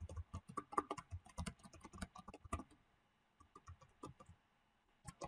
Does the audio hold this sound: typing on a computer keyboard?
yes